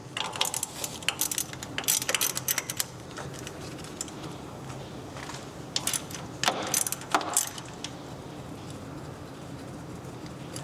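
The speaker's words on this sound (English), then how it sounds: "So we can just take our socket and get those off of here." Socket ratchet clicking as 10mm bolts come off a turbo inlet on a 2022+ Subaru WRX, bursts of quick close ratcheting separated by pauses, fairly quiet with no talking.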